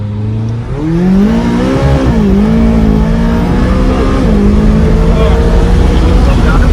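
A McLaren 570S sports car floors it on a freeway, its engine roaring loudly as the revs climb and dip through quick gear changes, a sustained, aggressive howl heard up close.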